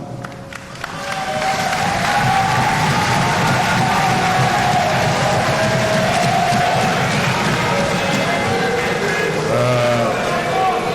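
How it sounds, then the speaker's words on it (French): Members of the National Assembly applaud, a dense, loud wall of clapping that swells in within the first second and holds steady to the end, with voices mixed in among the crowd. "sous les applaudissements de l'auguste assemblée"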